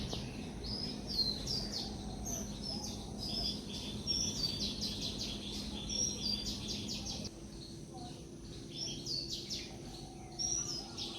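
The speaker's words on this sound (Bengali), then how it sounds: "দুটো শালিক এসছে আমাদের বাড়ি" Repeated chirpy, chattering calls of two common mynas sound steadily over a low outdoor rumble, fairly close and continuous throughout.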